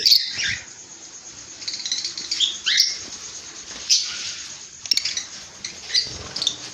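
Lovebirds at a bird shop give sharp, high chirps and tweets in scattered bursts, close and clear against a quiet background, with no talk.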